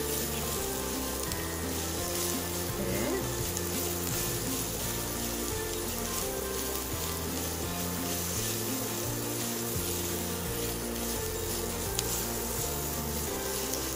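Tofu sautés with onion and garlic in a pan, giving off a continuous crackling sizzle. The frying sound runs steadily beneath background music throughout.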